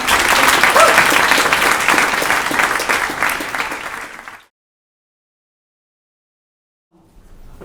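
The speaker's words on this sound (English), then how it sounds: "Give a big, up in the clouds, whoop-de-dup-dup, round of applause, Zach Anderson." An audience at an open banking conference breaks into loud, dense applause with cheering for Zach Anderson, sustained for about four seconds before cutting to silence, with faint crowd noise returning near the end.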